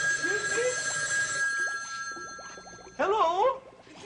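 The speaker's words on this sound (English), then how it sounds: "Oh, the phone's ringing" A telephone bell rings in bright, repeated bursts, loud and close, while people talk over and between the rings.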